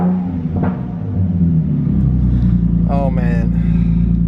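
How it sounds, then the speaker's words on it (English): A car with an AAM Competition S-Line midpipe exhaust idles with a steady low rumble, then gives a single brief throttle blip that rises and falls, with a voice talking close by over the engine. "I'm gonna give it one little rev and then we'll turn it off."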